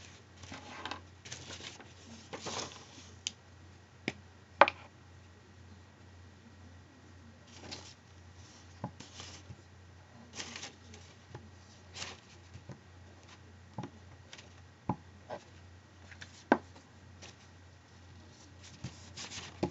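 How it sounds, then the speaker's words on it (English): A glue stick rubs a paper flap onto a flip chart, making soft, quiet, intermittent scraping and rubbing strokes with scattered light taps and no voices. "I'm going to glue remove on my first flap."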